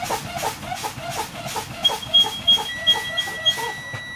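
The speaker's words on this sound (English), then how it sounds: "Fan your brakes until you reach 60 psi, and your warning light and buzzer should come on." Low air pressure warning buzzer on a truck sounding as the brakes are fanned down toward 60 psi, a thin steady tone over rhythmic hissing pulses of air released from the brakes.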